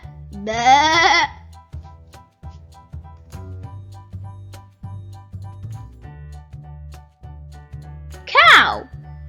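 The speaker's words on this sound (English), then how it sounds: "A sheep." Two short, wavering sheep bleats sound, one near the start and one near the end, separated by quieter rhythmic tapping and a low pulsing background.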